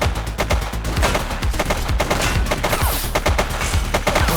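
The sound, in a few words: gunfire in video game The Precinct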